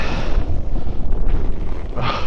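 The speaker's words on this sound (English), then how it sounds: "Oh my God, it is windy." Strong wind roars and buffets the microphone in a continuous low, rumbling rush, with no voices heard.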